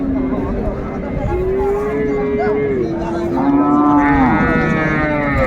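Several loud cow moos, long and drawn out, one after another close by, from cows with calves at the Raniganj cattle market, with a busy crowd murmuring and voices around them.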